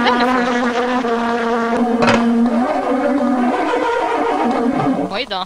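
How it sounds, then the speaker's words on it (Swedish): A wasp buzzes in a Moomin hide-and-seek video game: a steady, loud insect drone with tonal harmonics running the whole stretch, under continuous game sounds. "En geting!"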